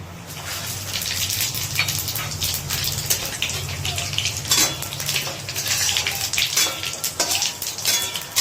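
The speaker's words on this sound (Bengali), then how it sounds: "তেলটা কিন্তু এখানে গরম হয়ে গেছে, আর দিয়ে দিচ্ছি গোটা ফোড়ন, জিরে, তেজপাতা, শুকনো লঙ্কা।" Whole spices such as cumin, bay leaf and dried chilli hit hot oil in a steady, crackling sizzle with intermittent metallic clinks of utensils against the pan, close and continuous.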